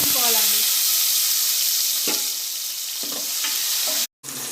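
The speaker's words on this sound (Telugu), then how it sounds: "కాస్త అన్ని టమాటా ముక్కలు వేయించుకోవాలండి" Tomato pieces frying in hot oil in a pan, a steady bright sizzle with a few soft stirring scrapes, heard alone at close range.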